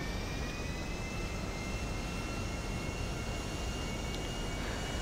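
Airplane engine in the Gran Turismo 5 racing video game, a steady, continuous broadband roar with a faint high whine, holding at even loudness throughout with no talking.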